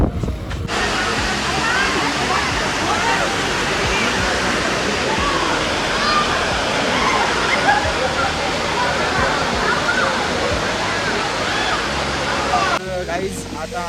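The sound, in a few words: Neer waterfall near Rishikesh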